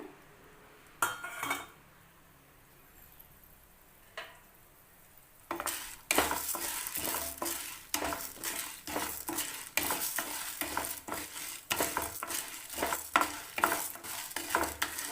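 Chana dal dry-roasting in a pan: after a few quiet seconds with scattered scrapes, a spoon starts stirring steadily, making quick rhythmic scraping and rattling strokes that are close and fairly loud.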